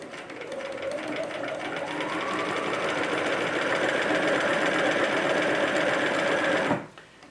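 Sewing machine stitching a fabric basket, a steady rapid mechanical whir close by that speeds up slightly and runs continuously for several seconds before stopping abruptly.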